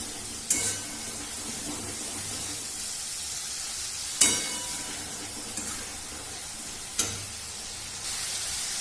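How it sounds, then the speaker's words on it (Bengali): Water poured onto frying spice paste for egg chicken tarka sets off a continuous close sizzle, broken by three sharp bursts of spitting as more liquid hits the pan and the paste is stirred. "একটু জল অ্যাড করছি যাতে মশলাটা পুড়ে না যায়"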